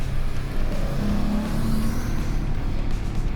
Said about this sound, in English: Hear that engine yawing away